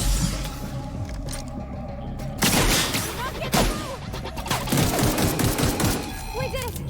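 Shotgun fire in The Outer Worlds video game: loud, heavy blasts land amid a constant din of combat gunfire, with a couple of sharper bursts standing out.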